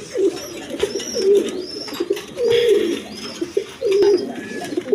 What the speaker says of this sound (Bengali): এখানে এক পেয়ার ডাউগা কবুতর আছে